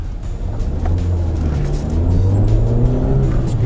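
A Citroen C4 running on LPG with a Prins Silverline system revs close and loud, its deep engine note rising steadily over a few seconds, with no talk.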